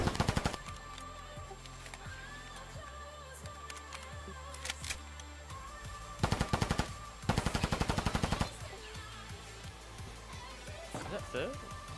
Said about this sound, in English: I shot this guy.